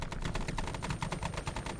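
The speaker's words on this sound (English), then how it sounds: "We're being fired upon." Rapid bursts of video game gunfire crackle in a dense, steady rhythm, loud and close throughout with no voices over it.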